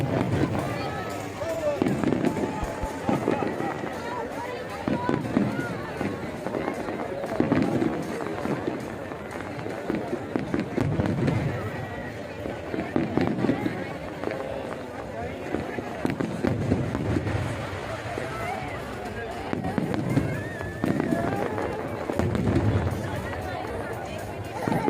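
Fireworks burst at Global Village in Dubai, with repeated booms and crackles rising through a dense background of crowd chatter and nearby voices, the bangs coming in irregular clusters.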